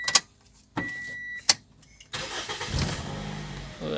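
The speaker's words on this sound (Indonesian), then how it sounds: "Bisa kita dengar suara mesinnya masih halus. Sekali di starter juga langsung hidup nih." A Toyota Vios Limo engine cranks and catches on the first try, with a couple of sharp clicks before it settles into a steady, smooth idle, heard close up from inside the car.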